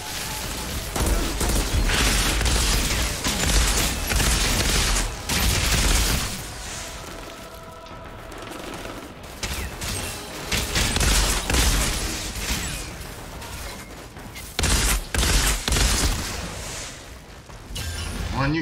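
Gunfire from the video game Outriders comes in loud, dense bursts of shots and booms that break off into quieter stretches and then return, with no talk heard.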